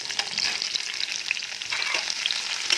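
Tomatoes go into a pan of softened small onions for a mutton curry, giving a steady close sizzle with scattered crackles and a few stirring scrapes, and no voices throughout.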